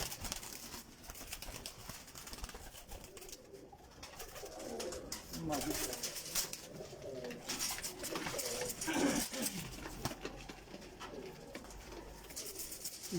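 Colourful pigeons coo softly in a loft, repeated low throaty calls rising and falling over about thirteen seconds, with someone talking quietly alongside and faint scattered background noise.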